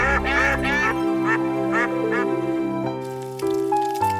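A burst of several nasal cartoon duck quacks in quick succession, loud and close, followed by sustained tonal sounds, from a Hindi-dubbed Oggy and the Cockroaches episode.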